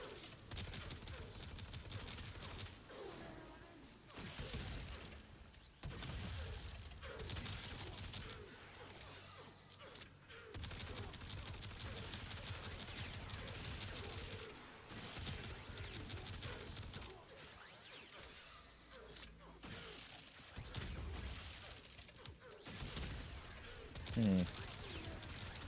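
Video game gunfire, with a weapon's alternate fire mode used during a community multiplayer stream, rattles in sustained bursts and volleys with chaotic mechanical noise, mid-distance and steady, and a voice talks over parts of it.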